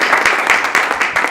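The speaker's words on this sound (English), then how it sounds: "let's clap for Michelle" A crowd at a kick-off event applauds for an absent board member, a dense, steady patter of many hands clapping close by for just over a second.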